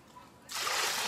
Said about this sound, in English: I'm gonna dump these waters out.